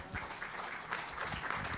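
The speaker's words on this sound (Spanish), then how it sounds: "Fuerte el aplauso, por favor." A conference audience claps after a presentation on participatory budgeting, a brief, faint patter of applause with voices in the background.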